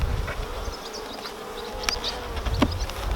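Honey bees buzz close by during an unsmoked inspection of a nucleus hive, a steady drone with individual bees swelling past now and then, no talking.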